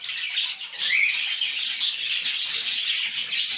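Japanese finches chirp in quick, bright bursts, close and continuous, with busy overlapping high calls and a brief fluttering rise.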